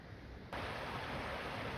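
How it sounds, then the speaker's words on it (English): Brook water rushing through sluice gates, a quiet hiss that jumps abruptly to a loud, constant roar of turbulent flow, nearby and free of talk. "The sound of the Cockster Brook. We'll go and have a look at the sluice gates in a minute, where all the noise is coming from."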